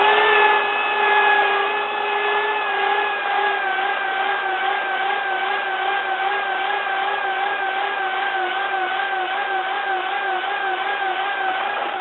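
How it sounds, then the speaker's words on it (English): A belt sander runs steadily on a panel, giving a continuous high, slightly wavering whine with a rough abrasive hiss, loud and close, alone without talk. "The belt sander is working."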